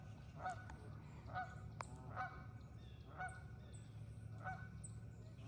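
Several geese give loud honking calls in a steady series over a low background hum, with one sharp click partway through.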